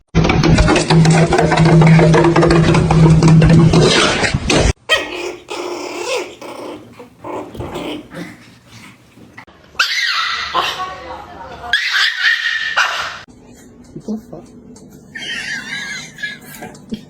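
A dog growls loudly and close in a long rumbling burst, then breaks into softer squeals, yips and whimpers while a person talks in a playful voice nearby.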